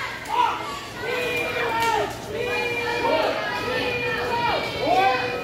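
A wrestling-match crowd yells and cheers in overlapping, rising bursts near and loud, with shouted voices rolling in waves across the clip.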